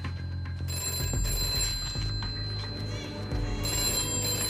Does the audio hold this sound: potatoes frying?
no